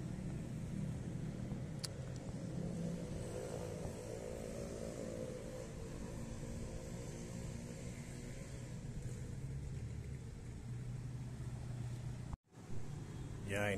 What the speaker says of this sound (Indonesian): mobil sudah mulai berdatangan ya ke stasiun Garut